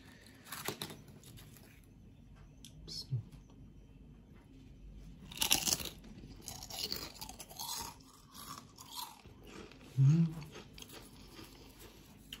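Crunchy fried snack made from flour and hot water, bitten and chewed close by. Sparse crisp crunches, with sharper, louder bursts near the middle and end over a quiet background.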